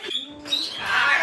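Harsh, raspy macaw squawks sound out nearby, a short cry followed by a louder screeching call, no talking.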